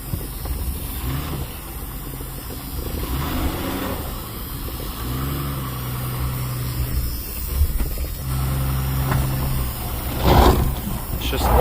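A lifted Jeep Cherokee drives along with its front brake calipers locking up, a mid-pitched engine drone and grinding drag under ongoing talk, with a sharper scraping burst near the end.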